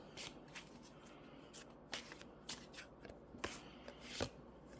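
Tarot cards are shuffled by hand in a quiet room, giving soft, close riffling and slapping sounds in short irregular bursts with no talking.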